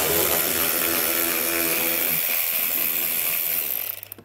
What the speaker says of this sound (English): And we're gonna get all those removed using an 8 millimeter socket.